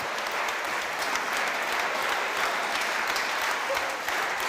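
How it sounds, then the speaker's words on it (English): Sustained audience clapping at a film festival award ceremony, many hands in a thick, steady roar that holds level throughout without any voices. "So a round of applause for Mr. Weisbrot."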